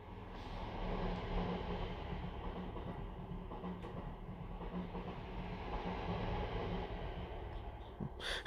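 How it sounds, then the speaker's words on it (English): A train rolls past outdoors, a steady, moderately loud rumble with faint rail clatter that holds for the whole stretch, with no one talking over it. "Here's a train."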